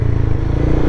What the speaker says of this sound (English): You bring the throttle up, so you give the bike a little bit of throttle,